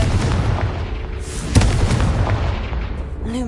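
A fire-blast spell explodes in the Hogwarts Legacy video game, a sharp boom at mid-clip rising out of a dense, rumbling layer of game effects and combat noise, with a burst tail fading away afterward.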